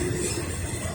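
An eastbound Norfolk Southern freight train rolls past on the tracks, giving a loud, continuous, close rumble with grinding wheel noise that is steady through the whole clip.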